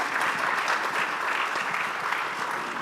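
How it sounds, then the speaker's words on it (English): An audience at a recorded radio programme applauds, a dense, even burst of clapping from a crowd that holds steady throughout, fairly near and without speech. "The audience is happy, so they're applauding one more time."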